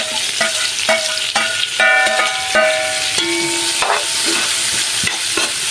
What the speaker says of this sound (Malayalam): ആ എണ്ണയിലേക്കാണ് നമ്മൾ ഉള്ളി വഴറ്റുന്നത്